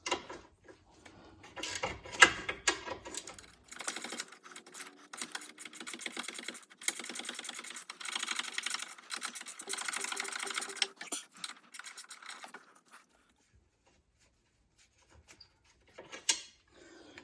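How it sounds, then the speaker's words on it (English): A gear wrench ratchets on a front suspension bolt of a 2012 Hyundai Tucson, giving rapid bursts of fine clicking broken by short pauses. The clicking falls silent for a long stretch before a brief final burst near the end. "I'm going to switch to a gear wrench, something with a little more clearance"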